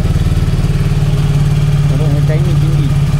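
A TRK 251 motorcycle idles close by with a loud, steady low throb, while someone talks briefly over the engine.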